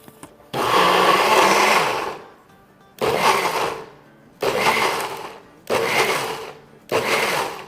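Beans whirring in an electric kitchen grinder for a taco pizza, running in five close, loud bursts: one long pulse, then four shorter ones with brief pauses between.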